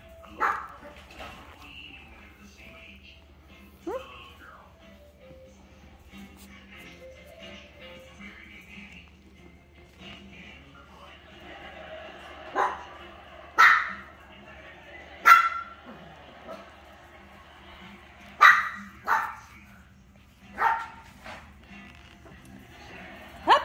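Four-week-old puppies let out sharp, scattered barks and high yips, some close and loud, mostly in the second half, over a quiet room with a few faint whimpers between outbursts.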